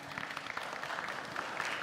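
Audience applause for candidates at the FKF presidential debate, a steady, dense clapping from a crowd that runs throughout.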